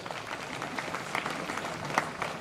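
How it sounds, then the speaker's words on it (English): Steady crowd applause at a polytechnic college day celebration, with scattered individual claps, moderately loud and continuous, no voices standing out. "Give them a round of applause."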